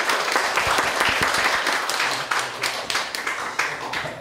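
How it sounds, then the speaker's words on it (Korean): Audience applause for a lecturer at the close of a Korean history lecture, a dense crowd of many hands clapping steadily and close, with individual claps distinct throughout and no voices over it. "큰 박수 부탁드리겠습니다"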